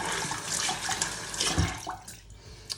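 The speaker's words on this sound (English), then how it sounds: "I'll rinse it off real quick." Running tap water splashes over hands as exfoliant is rinsed off at a sink, a close, uneven gush and patter lasting a few seconds with no speech.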